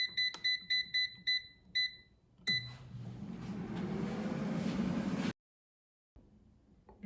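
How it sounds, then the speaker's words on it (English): An air fryer beeps repeatedly in a short electronic series when cooking ends, followed by a rustling, clattering handling sound near the appliance. "Now the air fryer is done cooking"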